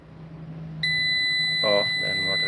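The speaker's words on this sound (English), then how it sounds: "first I need to silent this beep sound again" A VM III 5 kW inverter with fault 52 sounds its alarm: a sharp, steady high-pitched electronic beep starts abruptly and holds on over a low background hum, with brief faint noises partway through.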